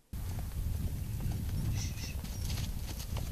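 An 11-year-old mare clip-clops over the ground, a close, continuous run of hoof strikes heard during preparations for a Vojvodina horse gallop event.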